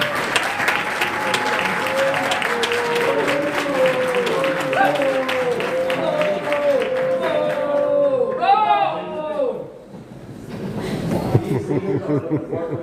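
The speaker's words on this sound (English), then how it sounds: "Please give them one big round of applause." A room at a Chicago city council meeting bursts into sustained loud applause with cheering and some laughter, then fades into scattered claps and murmuring voices.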